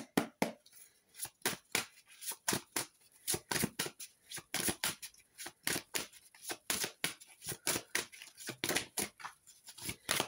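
Oracle cards are shuffled in a long run of crisp, rapid flicks and riffles, close and steady for about ten seconds with brief pauses, no voices.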